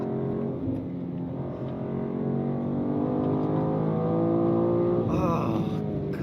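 BMW M2 CS engine pulling hard under acceleration, a steady, loud in-cabin drone that rises in pitch over several seconds, with a shift-like change near the end.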